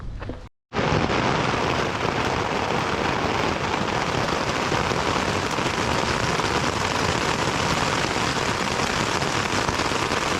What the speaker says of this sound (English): Gonna be hard to fall asleep with all this lightning and rain.